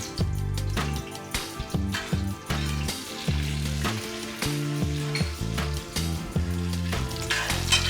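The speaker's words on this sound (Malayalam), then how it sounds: "ബാക്കി മസാലകളൊക്കെ വഴറ്റാൻ തുടങ്ങും. ഞാൻ ഓരോന്നായിട്ട് ഇടുകയാണ്. ഉലുവ, പെരുംജീരകവും ഞാൻ ഒരു തക്കോലം എടുത്തിട്ടുണ്ട്." Fenugreek, fennel seeds and star anise sautéing in hot oil in a pan for a Kerala-style duck curry, a steady loud sizzle with stirring clatter, no voices.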